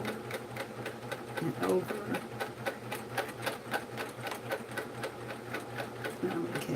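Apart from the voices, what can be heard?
sewing machine stitching a quilt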